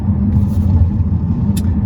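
A 2019 Volkswagen Arteon SE is driven on the road, producing a loud, close low rumble of engine and tyre noise that stays steady throughout, with no talking.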